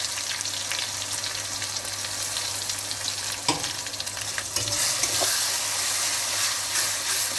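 Ground spice paste sizzling in hot oil in a pan for a Bengali fish-in-curd dish, a steady broadband fry with occasional stirring knocks, close and continuous without talk.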